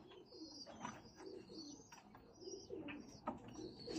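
Laakha pigeons coo softly in a breeder's loft in Faisalabad, with repeated low, throaty coos in a steady rhythm, near but quiet, and a few faint chirps above them.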